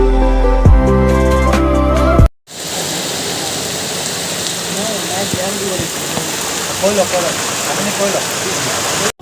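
Steady, dense rain falls throughout on the road to Longding, loud and close, after a burst of music cuts out abruptly; faint speech is heard under the downpour.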